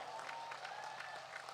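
An audience at a large Buddhist dharma assembly in Korea praying for peace and national unity applauds and cheers Venerable Pomnyun Sunim and four others. The applause comes as a dense, continuous wash of clapping from a large crowd, heard at a distance.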